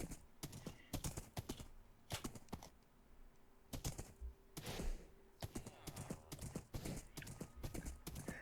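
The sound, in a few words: horse walking in Minecraft video game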